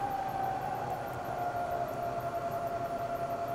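Steady whine of a milling machine spindle with a high tonal pitch that drifts slightly lower as the speed dial is turned down, continuous and moderately quiet.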